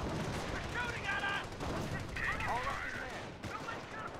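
Battlefield gunfire from the World War II strategy game Company of Heroes: a steady wash of distant rifle and machine-gun fire over ambient battle noise, with brief whistling tones mixed in.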